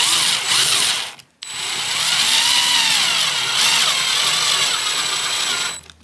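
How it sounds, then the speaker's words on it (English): A power driver whirs steadily as it sets screws into a left-hand tuner on a dulcimer, two loud, close runs with a brief stop between them. "So we just finished putting the two screws in this left-hand tuner"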